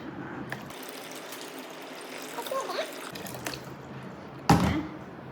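Hot water trickles steadily and faintly into a container being readied to soak silver puja items with lemon juice and soda, and a short, louder splash comes near the end.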